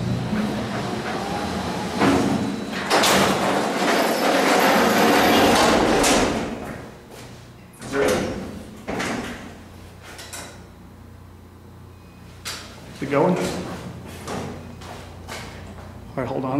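An old OTIS freight elevator door bangs and rattles shut in several heavy clanks and thuds, with mechanical scraping between them and people talking nearby.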